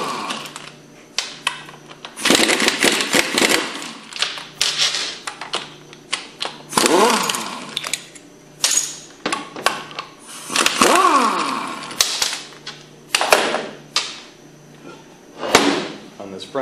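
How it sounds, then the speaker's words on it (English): A 9/16 socket wrench works bolts off the front housing of a HYPRO centrifugal pump with a hydraulic motor, giving repeated close ratcheting clicks and metallic clatter in bursts, with speech in places. "We'll start by removing the front housing with a 9/16 socket."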